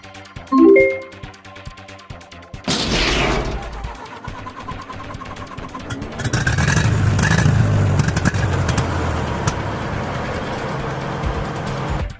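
A KV-44 tank engine in a video game cranks to life with a loud burst, then settles into a deep rumbling idle that swells louder and steadier midway through, with no talking.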